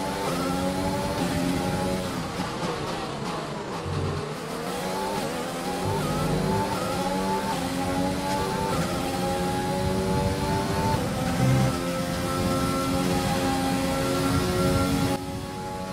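Renault-powered Formula 1 car engine in the racing game F1 2020 at the Azerbaijan Grand Prix, a sustained high-pitched whine that climbs and drops through gear changes while other cars buzz nearby, with no talking.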